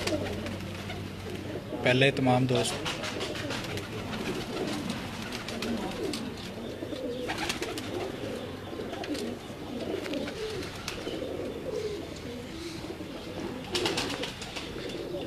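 Slaty pigeons coo in soft, repeated rolling calls, with someone talking over them throughout.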